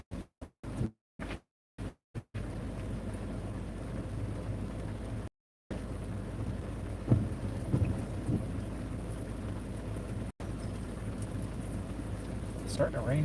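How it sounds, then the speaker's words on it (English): Steady rain falling outdoors as a severe thunderstorm with damaging winds moves in, with faint rumbles of thunder in a continuous wash of noise. "It's starting to rain pretty good."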